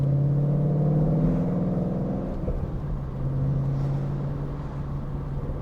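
A Ford Mustang GT engine rumbles steadily and loudly close by, its deep exhaust tone shifting as the car drives past, with no talking.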